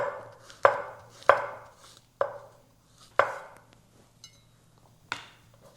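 A kitchen knife slices through mushrooms on a cutting board in a home kitchen, a handful of crisp separate chops spaced irregularly, close and clean, with quiet pauses between strokes and no talking.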